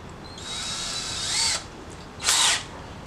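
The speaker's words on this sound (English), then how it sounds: "drill some holes" A power drill whirs in two bursts, a longer run followed by a short pause and a second quick spin.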